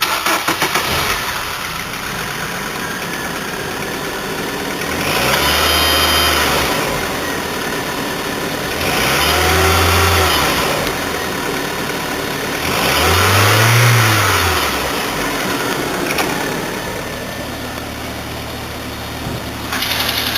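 A 2001 Volkswagen Cabrio engine, 93,429 miles, idles steadily and close, broken by three separate revs that rise and fall, each a little stronger than the last.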